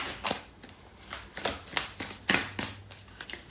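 Lightseers and Lover's Oracle tarot cards being shuffled by hand, a run of soft riffling bursts and papery slaps at an uneven rhythm, close and fairly quiet with no talking.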